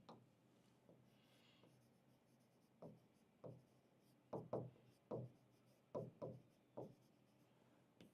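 Someone writes on a classroom board in a series of short, scratchy strokes that come in quick irregular bursts, quiet and close, with no talking.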